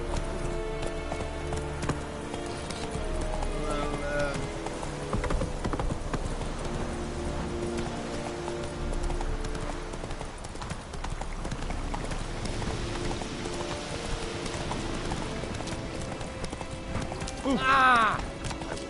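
Horse hooves clip-clopping at a steady rhythmic gait throughout a video game scene, mixed with game music and voices, with a neigh near the end.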